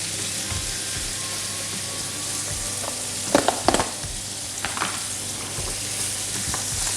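Onion, green chili and curry leaves fry in a pan for a prawn aviyal, giving a steady close sizzle with a few sharper crackles and stirring scrapes partway through.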